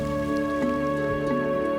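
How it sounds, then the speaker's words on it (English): Torrential rain in Africa, a dense, steady hiss of heavy downpour with a constant tonal hum underneath, loud and unbroken, with no voices. "despite the torrential rain, the temperature remains extremely hot"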